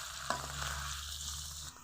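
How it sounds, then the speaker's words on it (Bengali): Sliced onions frying with a little salt in hot oil for biryani beresta, a steady close sizzle with a brief clatter near the start, alone without talk. "লবণ দিয়ে বেরেস্তা ভাজলে খুব সহজে ভাজা হয়ে যায়"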